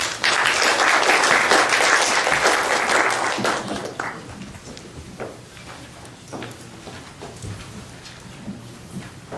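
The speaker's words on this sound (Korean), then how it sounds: "박수로 맞이해 주세요" An audience at a policy forum on a Jirisan cable car applauds to welcome a presenting professor. Loud, dense clapping swells at first, then thins and fades to scattered claps.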